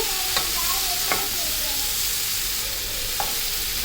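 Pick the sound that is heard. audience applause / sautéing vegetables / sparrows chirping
sautéing vegetables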